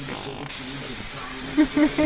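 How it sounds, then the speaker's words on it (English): A steady hiss of 3M spray adhesive from an aerosol can runs close by, with brief voiced sounds near the end. "We're just going to spray the 3M to it and stick it on there"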